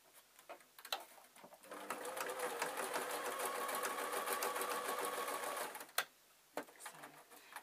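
Sewing machine stitching closed the turning gap of a fabric tissue packet cover, a steady close whir running about four seconds between short bursts and clicks, no talking.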